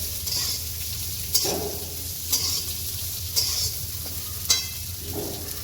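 Sprouted moong beans stirred with chillies in a hot pan, a steady soft sizzle with four sharp scraping clicks of a spoon against the pan at regular intervals, close and alone.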